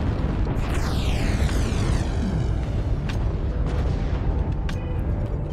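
Artillery strike explosions in the MechWarrior Online video game, a continuous heavy rumbling barrage of booms with a whistling descending streak, loud and close.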